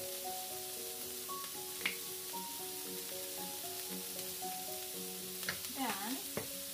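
Fried rice sizzling in a pan, a close, steady crackle of frying with scraping stirs and clinks of utensils against the pan, heard alone without talk.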